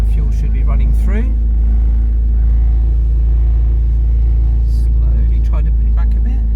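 Small Suzuki Maruti 800 engine idling steadily after a carburetor clean, a continuous low rumble close by with the throttle blipped briefly, and voices talking over it.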